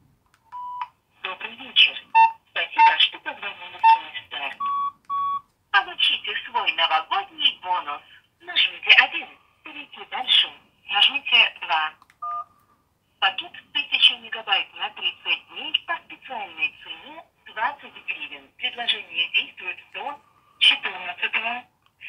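A 2003 Nokia 3100 mobile phone on speakerphone plays a telephone line with dialing beeps, then a voice comes through in bursts with short pauses between them.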